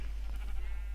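Sheep bleating in Minecraft, one short muffled bleat over a steady low hum, faint and alone.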